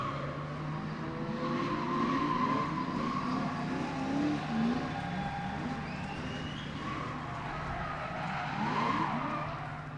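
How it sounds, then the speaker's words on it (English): V8 supercharged drift car sliding at a drift event at Yas Marina, Abu Dhabi, tires squealing in long wavering howls over a steady engine roar, heard from a distance. "And Fred Ox now drifting around him in his V8 supercharged powered Soder."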